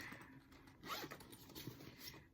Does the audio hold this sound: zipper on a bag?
yes